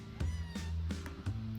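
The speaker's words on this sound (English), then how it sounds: "It meows, clearly upset, and struggles against my grip." Cat in the Cateau video game gives a few short, upset meows in quick succession, close and fairly clear.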